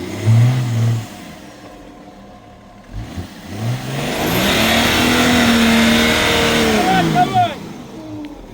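Car engine revving hard while the vehicle sits stuck on a rough track near Khashmi and Patardzeuli, with a rising, sustained high-rev roar in the middle and shouting voices before and around it.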